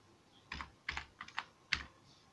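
A word being typed on a computer keyboard, a short burst of about six soft key taps, close and quiet, with no talking.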